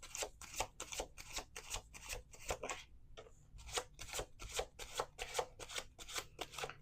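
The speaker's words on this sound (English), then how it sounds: "Last shuffle." A deck of tarot cards being shuffled close up, a quick run of regular riffling strokes with a brief pause partway through, crisp papery bursts repeating steadily.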